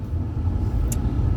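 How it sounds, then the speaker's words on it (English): Steady, loud low-pitched road and engine rumble from a car being driven, continuous with no voices and one brief high click near the end. "So I am driving"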